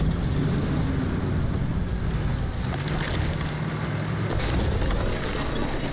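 A heavy truck engine with slight damage runs after starting in the SnowRunner off-road driving game, a dense, steady low rumble with a rough, windy hiss, loud and continuous throughout, with no talking.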